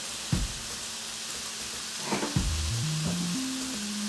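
Chicken stir fry sizzles steadily in a pan, a continuous close hiss with a few soft knocks and brief tonal scrapes from stirring, no talking.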